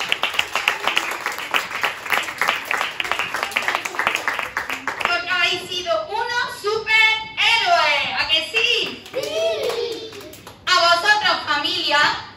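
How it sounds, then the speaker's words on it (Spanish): A group claps steadily for several seconds at a five-year-olds' graduation, then children's excited voices and cheers take over, with clapping returning near the end. "Un aplauso para el"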